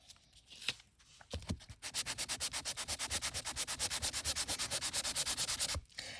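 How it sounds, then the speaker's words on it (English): Paper being rubbed with the side of a sanding block to bring a design through for a handmade journal or card, a few scattered scrapes followed by a long, fast, even run of rhythmic back-and-forth rasping, close and clear. "And I'm just choosing to use the side of my sanding block."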